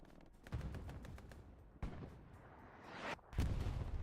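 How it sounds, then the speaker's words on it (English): A bombing run striking in a competitive multiplayer war game, loud heavy explosions and rumbling blasts hitting in a few separate waves, without voices. "Bombing run coming in."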